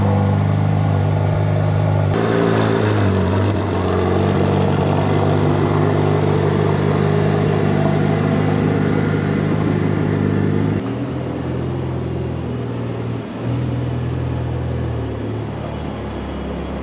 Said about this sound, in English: Hop in here, give this a cold start